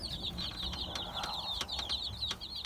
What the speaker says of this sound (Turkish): Tavuklarımıza yem vereceğim